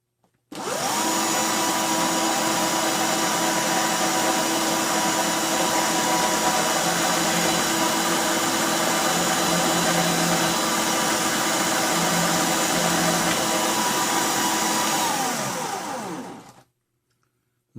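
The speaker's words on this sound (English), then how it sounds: "This pin lathe actually gives me way better control than any Dremel I've ever tried." A small pin lathe cutting a serration into a security pin, whirring steadily and loudly up close with a sustained high-pitched motor whine that starts abruptly, holds constant for about fifteen seconds, then winds down to silence.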